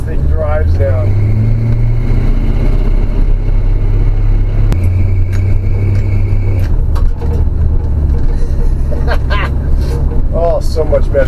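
A Chevy C10 truck with a small block engine and a new carburetor and fuel pump drives along, its engine rumbling loud and steady throughout. Excited voices talk over it.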